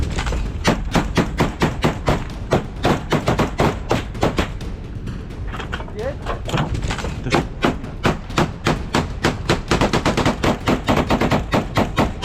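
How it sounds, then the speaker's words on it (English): Rapid bursts of gunfire from inside a building during combat in Ukraine, dense loud repeated shots with brief pauses, close and echoing. "a sudden burst of gunfire rang out from within"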